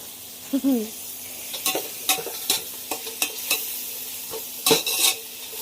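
Chicken frying in oil for chicken biryani, a low sizzle broken by repeated sharp scraping strokes of a ladle against the pot, with a brief bird-like chirp early on.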